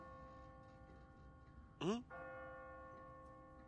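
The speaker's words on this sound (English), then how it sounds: "No one's ringing that bell. It's automatic. On a timer." An automatic church bell on a timer in The Walking Dead video game rings as a steady, sustained tone throughout, with a brief murmured voice sound in the middle.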